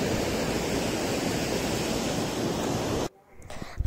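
Fast-flowing water of the Kaliyar river in Kerala rushes in a dense, steady roar, then cuts off abruptly near the end, leaving quiet with a few small knocks.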